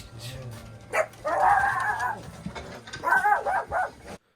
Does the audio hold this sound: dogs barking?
yes